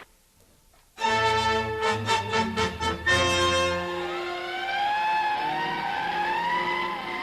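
Sirens wail and rise as fire engines evacuate from a wildfire, loud and close at first, with engine rumble beneath the long sweeping tones.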